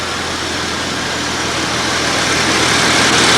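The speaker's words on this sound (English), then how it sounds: "I'll put y'all over by the exhaust, and you can just hear this baby roar" A 1989 Dodge Dakota's four-cylinder engine idles with a steady, low rumble without a break, a continuous broadband drone and a faint low hum, gradually growing slightly louder.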